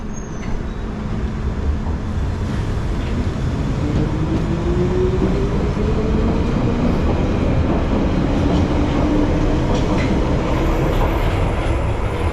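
A London Underground train rumbling steadily as it is driven out, with a loud continuous roar, a faint rising motor whine and a high squeal near the start.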